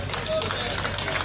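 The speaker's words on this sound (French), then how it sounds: "on applaudit s'il vous plaît" Audience applauding at an award ceremony, a brief burst of clapping mixed with crowd noise and a voice speaking over it.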